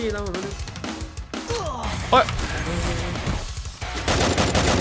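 Rapid automatic gunfire in the mobile battle royale Free Fire, loud bursts layered with game effects while Thai players talk excitedly over the shooting.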